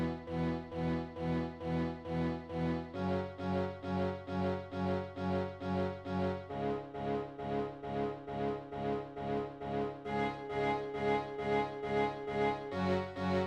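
Repeating synth melody pattern for a new wave beat made in FL Studio, steady pulsing notes that step down through a few chord shifts, bright and loud with no voice.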